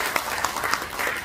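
Audience applause for a city mayor being welcomed to the stage at a 2023 World Couples Day ceremony at the National Assembly, a brief, steady burst of many hands clapping together.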